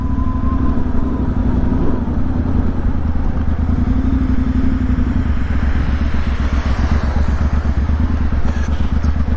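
A Triumph T120 motorcycle engine runs on a night ride through London streets, a loud close steady thrum with rapid pulsing firing beats and faint rattles.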